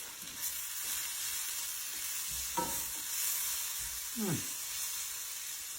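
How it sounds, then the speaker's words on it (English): Sliced mushrooms and onions dusted with fajita seasoning fry in a pan for a steak fajita quesadilla, giving a steady close sizzle and hiss broken by a few scraping stirs. "onions cooking"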